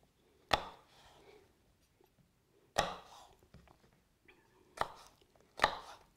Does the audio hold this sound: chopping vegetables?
yes